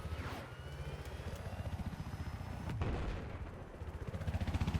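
A helicopter in Battlefield 4 thunders with rapid rotor chopping close by, while gunfire and explosions rumble around it in a loud, busy battle mix that ends without any talk.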